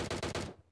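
Sniper gunfire in the battle royale game PUBG Mobile: a rapid string of four or five loud, evenly spaced shots cracking close by, then a decaying tail into near silence.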